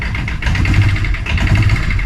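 A diesel Arctic Cat engine runs loud and close in neutral, its steady rumble swelling slightly as the revs rise, with no voices.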